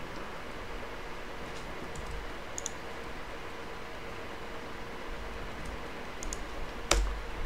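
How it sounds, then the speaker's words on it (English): Light typing on a computer keyboard, faint scattered key clicks over a steady background hiss, with one sharper click near the end. "Why is this not typing?"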